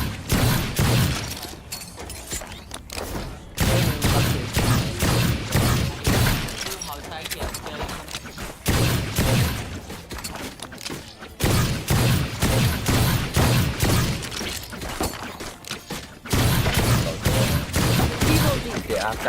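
Bursts of gunfire from a shooting video game, repeated in several loud clusters of rapid shots separated by short pauses, with someone talking over the action throughout.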